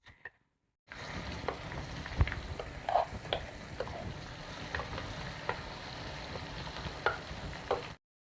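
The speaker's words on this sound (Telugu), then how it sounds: "మనం ముందుగానే గ్రైండ్ చేసి పెట్టుకున్న ఈ చట్నీని పోపులో వేసుకుందాం" Ground tomato chutney goes into a hot curry-leaf tempering, producing a busy crackle and hiss with irregular stirring knocks and scrapes that run steadily for several seconds, then stop abruptly.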